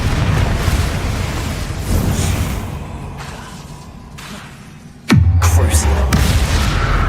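A sudden loud fiery blast from the Confringo spell in Hogwarts Legacy, with a booming impact and a rumbling tail, breaking into a quieter stretch of ambient game sound.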